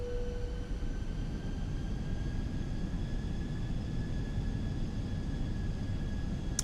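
Landing gear lowering on a Fenix A320 airliner in Microsoft Flight Simulator, heard as a steady low rumble and broadband roar of the cockpit and airflow, continuous and fairly loud throughout, with a short faint tone near the start.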